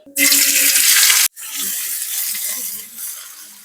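Chopped onion hits hot oil with cumin seeds in a frying pan, bursting into a loud hiss that cuts off briefly, then settles into a steadier, softer sizzle.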